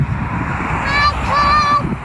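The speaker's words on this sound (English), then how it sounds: "Honk, tell him honk." A truck horn gives two short, loud honks in quick succession, the second held slightly longer, over a low background rumble.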